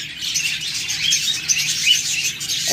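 Pet budgerigars, cockatiels and lovebirds chatter and chirp continuously in a dense, bright flock, with overlapping warbles and tweets close by and no speech.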